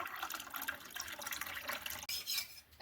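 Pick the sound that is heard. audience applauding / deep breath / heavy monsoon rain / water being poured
water being poured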